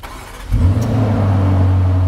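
A Lamborghini Urus engine cranks and catches about halfway through, then settles into a steady, close idle hum.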